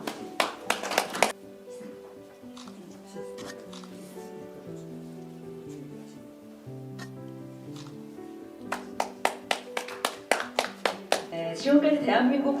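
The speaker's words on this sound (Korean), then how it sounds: "네, 박수 부탁드리겠습니다." Audience applause at a Korean newspaper founding ceremony, with bursts of clapping at the start and again near the end, between which a musical fanfare plays steadily.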